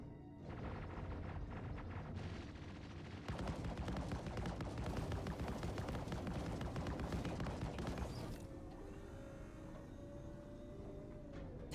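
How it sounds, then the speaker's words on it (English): Ship weapons in Star Citizen unload in a continuous, dense barrage of rapid gunfire with booming impacts, steady and loud for about eight seconds, then give way to a lower rumbling hum. "We'll just fire at everything around us. Fire everything!"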